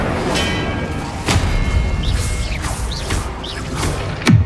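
Incendio fire spell cast repeatedly in the Hogwarts Legacy video game, with dense game-combat sound: several sharp whooshing bursts and thuds over a busy background of rumbling effects, fairly loud throughout.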